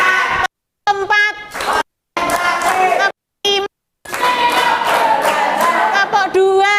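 Classroom of students clapping out a counted rhythm pattern in short bursts, separated by brief silent pauses, with children's voices chanting along over the claps.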